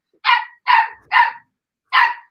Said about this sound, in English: Brody don't be barking. It's like, what's going on?